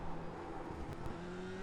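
Formula 3 single-seater engine in iRacing at Lime Rock with chicanes, a steady loud droning whine with rising pitch lines as the car upshifts into third over a bump, continuous throughout with no talk.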